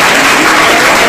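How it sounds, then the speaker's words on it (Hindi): Audience applause at a Hindi poetry or ghazal recital, a steady, dense wash of many hands clapping together, loud and close, holding evenly for the whole moment without a break. "एक बार और ताली"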